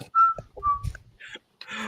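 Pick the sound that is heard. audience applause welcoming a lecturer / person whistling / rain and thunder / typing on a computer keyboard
person whistling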